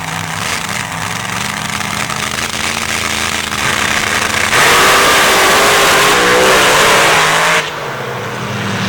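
Drag racing cars in the open class rev hard on the start line at a championship round, a loud sustained engine roar that swells higher midway and then drops back slightly, with no talk over it.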